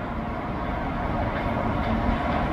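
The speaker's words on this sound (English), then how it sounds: "Train now approaching platform number one is the 243 Brakeman service to Bury." A diesel train on a heritage line draws into a station platform during a summer diesel gala, a steady low rumble and rolling noise held at an even loudness throughout.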